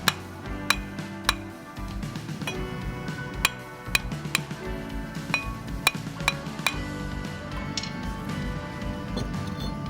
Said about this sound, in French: À l'aide d'un marteau, tapez sur le disque pour le faire sortir.